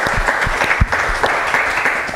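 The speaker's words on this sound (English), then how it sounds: "So if we give ourselves one last round of applause," An audience at a conference session on open data and analytical pipelines claps together, with close individual claps standing out over the steady applause.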